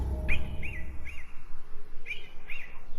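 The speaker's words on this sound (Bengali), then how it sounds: "সকালে পাখির ডাকে ঘুম ভাঙল" Morning birdsong sounds as a bird repeats short, bright whistled chirps, about five of them in two groups, fairly close and clear over a quiet, faintly hissing background.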